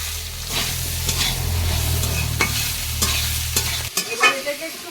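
Potatoes and soybean chunks fried with ginger and cumin paste, stirred in a pan over a steady loud sizzle, with spatula scrapes recurring at intervals before the frying noise suddenly cuts off.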